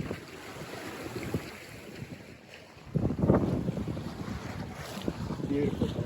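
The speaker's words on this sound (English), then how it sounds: "Looks like the wind's picking up already today." Wind rushes steadily past a Buccaneer 18 sailboat on a broad reach, a broadband roar with buffeting gusts that swell louder halfway through, along with faint water wash around the hull.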